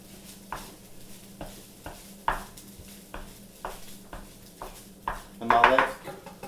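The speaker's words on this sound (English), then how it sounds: "I'm going to throw the rice in, which is still kind of wet, but you know, and blend that together" Rice stirred into fried mealworms, onions and peppers in a pan, with a series of spaced spatula knocks and scrapes against the pan, ending in a louder stretch of scraping and sizzle, close up.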